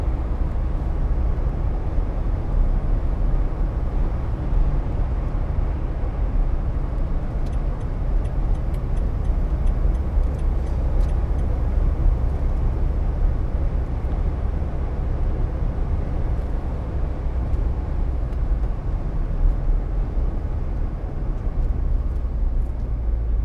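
A 2014 Vauxhall Vivaro 2.0 CDTi Sportive panel van drives along and brakes, a steady low road and engine rumble with faint ticking, heard from inside the cab with no talk.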